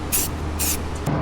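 Rattle can spray paint during a Dodge Viper ACR rebuild, two short hissing bursts with a brief gap between them, loud and close, followed by a quick clatter.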